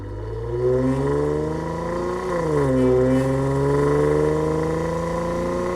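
A deep, steady exhaust rumble from an idling 2007-2017 Jeep Wrangler JK with an aftermarket axle-back exhaust, rising briefly with a rev midway before settling back to a smooth, rounded drone.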